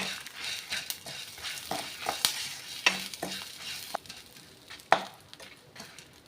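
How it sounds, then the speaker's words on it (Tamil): Tomatoes fry in a pan with curry leaves and are stirred with a spoon, giving a soft continuous sizzle broken by scraping strokes and a few sharp clinks of the utensil against the pan; no voices. "தக்காளியும் அது கூட நல்லா வறுத்து எடுத்துக்கோங்க"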